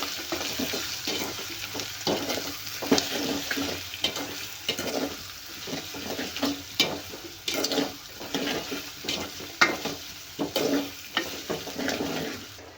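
Turmeric and salt being stirred through vegetables frying in a pan, with a steady sizzle and repeated scraping, clattering strokes of the spoon throughout, close and moderately loud, no talking.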